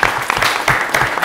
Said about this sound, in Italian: va un ringraziamento e un applauso alla dirigente e alla scuola